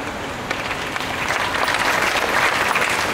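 Steady, dense applause from a kirtan audience fills the space, loud and continuous with no pause, swelling slightly toward the end.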